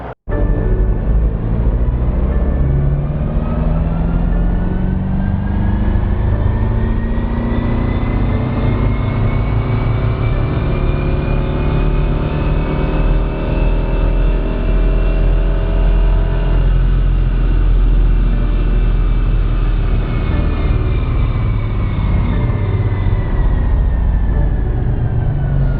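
A BMW 328d diesel with a KermaTDI Stage 2 tune running on a dyno: a loud, sustained engine roar climbs steadily in pitch through the run, with a dense rumble underneath throughout.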